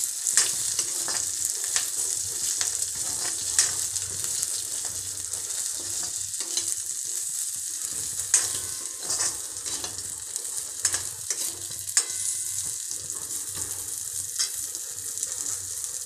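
Food frying in a small amount of oil with a spoon scraping and stirring, a continuous close crackling sizzle punctuated by repeated clinks and scrapes, no voices.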